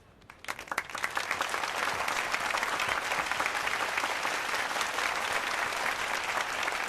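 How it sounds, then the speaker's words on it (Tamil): Audience applause at a prize distribution, starting from a few scattered claps and swelling within a second into loud, steady, sustained clapping from a crowd. "மீண்டும் பலத்த கரகோஷங்கள்"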